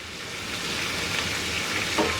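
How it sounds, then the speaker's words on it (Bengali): Cauliflower stalks and beans frying in a pan with steady, loud, close sizzling. The vegetables are stirred, and a soft scrape can be heard near the end. "একটু নাড়াচাড়া করে নিই নাহলে নিচের দিকেগুলো পুড়ে যাবে"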